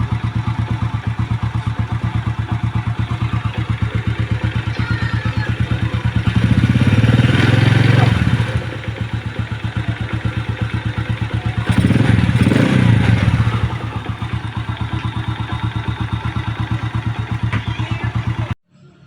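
Motorcycle engine idling steadily after a cam bearing replacement, a continuous mid-pitched running note with two short louder swells that sound like brief throttle blips, no talk.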